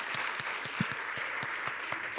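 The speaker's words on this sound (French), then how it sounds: "On vous applaudit. Merci beaucoup." Audience applause for guests at the close of a French public talk on transport, climate and lifestyles, a steady wash of many hands clapping with a few louder individual claps standing out.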